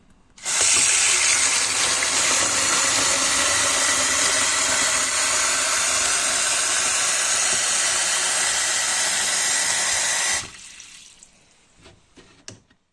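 Tap water runs steadily into a container for about ten seconds, a loud continuous rush that stops abruptly, followed by a few faint handling clinks; the water is being drawn for rooting coleus cuttings.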